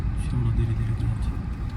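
Car engine rumbling low and steady as a learner drives during a basic driving lesson, while an instructor talks over it.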